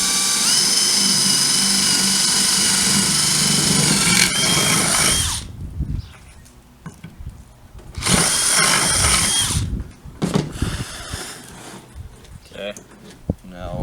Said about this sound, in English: we are going to take it in the back and drill a nice hole